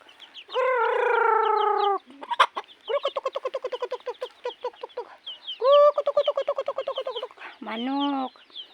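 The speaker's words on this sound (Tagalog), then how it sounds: "Tapos, mga manok." Chickens cluck up close in rapid repeated bursts, with a few longer drawn-out squawks between the clucking runs.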